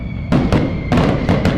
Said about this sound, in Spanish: Luego subieron los fuegos artificiales y estallaron en el cielo.